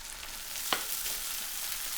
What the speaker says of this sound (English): Next thing we're going to do is add our rice in.